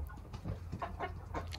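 A turkey cock gobbles on a farm, a quiet cluster of warbling bursts repeating in quick succession over low background rumble.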